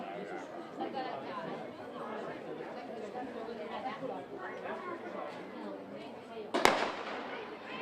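A starter pistol loaded with blanks fires once for a cadette girls' 1200 m steeplechase at an outdoor athletics meet in Trento, a single sharp crack near the end over a murmuring crowd and voices.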